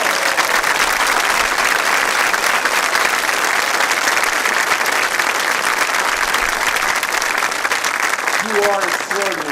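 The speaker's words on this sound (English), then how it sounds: "Please give them a round of applause." A school convocation audience gives a long, loud round of applause for school staff such as classroom and bus aides, dense and sustained, with a voice rising near the end.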